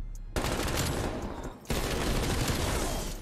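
An LC10 gun in the Call of Duty Cold War video game fires two dense, loud sustained bursts separated by a brief pause.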